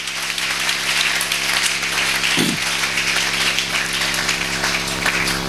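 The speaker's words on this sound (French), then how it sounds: "Acclamez le Seigneur" A church congregation applauds to acclaim the Lord, a steady, loud roar of many hands clapping together, sustained throughout over a low hum.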